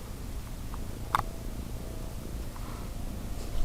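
A house cat purrs faintly and steadily in a quiet indoor room, a low continuous rumble with a brief small click partway through.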